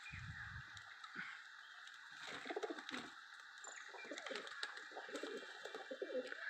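Pigeons cooing on a sunny rooftop while they bathe and dip in water, a steady chorus of soft low coos and bird calls with faint chirps throughout.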